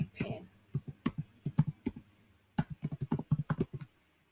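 Typing on a computer keyboard: a quick, close series of crisp key clicks in two bursts with a short pause between them, over a quiet background and with no talking.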